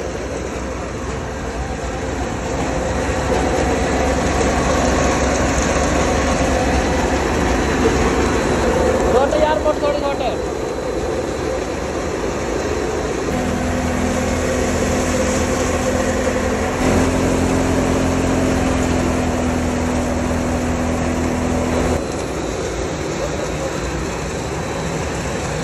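A farm thresher powered by a solar motor runs continuously with a steady mechanical drone and rattle, fairly loud and close, while people talk nearby.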